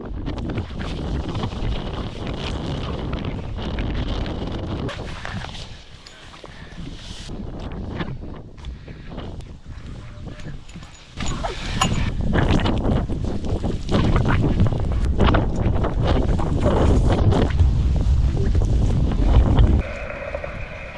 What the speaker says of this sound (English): The wind was coming through the valley and there were snowflakes coming up the side of the mountain.